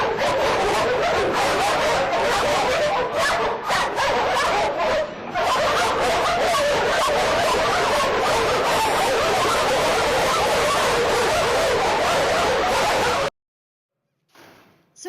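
A no-kill animal shelter packed with dogs fills with dense, continuous barking from many animals at once, loud and chaotic for about thirteen seconds before cutting off to near silence.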